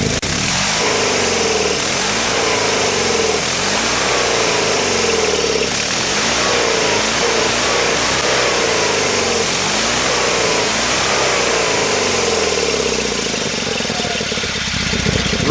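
A Sears Suburban SS16 garden tractor engine runs steadily after a winter cold start, a loud close continuous chugging drone with a slight rise and fall in pitch and no voices.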